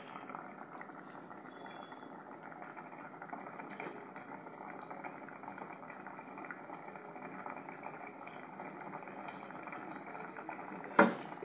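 Vegetables for hotel-style sambar boil in a pot with a steady, even bubbling hiss throughout, and a brief clatter sounds near the end.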